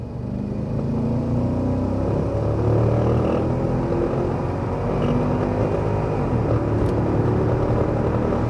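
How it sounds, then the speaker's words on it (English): Porsche Cayenne Turbo S with its big V8 accelerating hard on the road, a loud steady gurgling engine roar that holds strong for several seconds, heard from inside the car with no talking. "It just gurgles, that big V8, responds really quickly on the gas pedal."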